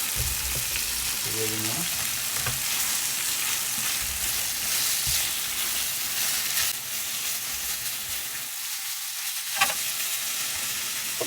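Two small cherry tomatoes frying in a hot pan, a steady close sizzle and hiss with occasional stirring scrapes, and a brief spoken remark over the cooking.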